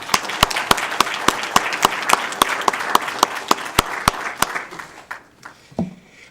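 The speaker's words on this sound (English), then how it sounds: "let's give him a big round of applause" An audience applauds at a city council meeting, with a few sharp, loud claps standing out over the clapping. The applause thins and dies away toward the end.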